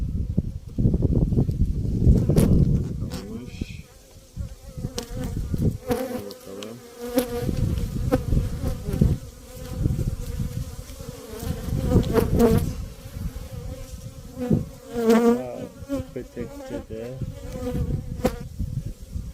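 Honey bees hum densely at an open hive during a spring inspection, a continuous close buzz rising and falling in loudness, with knocks and handling noises from the combs scattered throughout.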